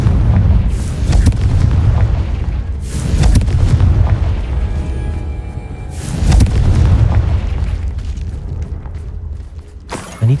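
Repeated loud, booming fiery blasts from the Confringo spell in the wizarding game Hogwarts Legacy, three big bursts with rumbling tails spaced a few seconds apart, set against a low steady background.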